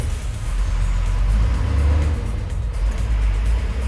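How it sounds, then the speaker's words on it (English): Heavy trucks rumble past outside, a loud, steady low-frequency roar of engines and tyres filling the whole stretch without a break. "Sorry, the trucks."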